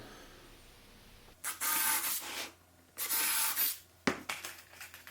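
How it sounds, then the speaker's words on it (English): A power drill whirs in two sustained bursts of about a second each, separated by quiet, then a short sharp bite at the end, pre-drilling pilot holes into plywood. "I'm going to pre-drill."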